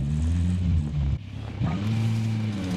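Car engine droning steadily in a military shooter video game, a low rumble with a brief dip before it resumes and holds at a constant pitch.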